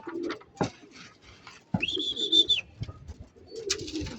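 A racing pigeon named Pencil Bloomer, a late returner from a 90 km training flight, gives a few soft coos between brief chirps and a thin whistling tone, close by with no talk.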